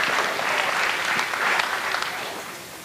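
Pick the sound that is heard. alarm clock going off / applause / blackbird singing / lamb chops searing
applause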